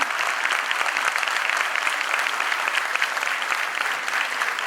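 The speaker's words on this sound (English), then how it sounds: "Can we have a huge round of applause?" A full hall applauds at a school debate competition: dense, steady clapping from a large crowd, loud and unbroken for the whole stretch with no voices rising above it.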